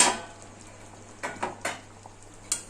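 A metal lid comes off a pot of gathi kochu curry on a gas stove, giving a faint opening clatter followed by a few light, scattered clinks of metal against metal.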